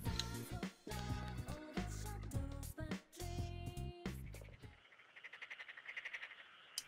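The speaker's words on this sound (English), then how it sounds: "Do we have a pet frog in here? And I think it's just the ambiance." Frogs croak as ambient sound in the video game Persona 4: a run of rhythmic, repeated croaks rises and falls alone after a louder stretch of game sound.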